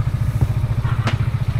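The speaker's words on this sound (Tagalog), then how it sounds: "pinapainit na namin yung motor" A motorcycle engine idles while warming up before a morning ride, a loud, close, steady putter of rapid even pulses, with a light clatter and thump breaking in briefly.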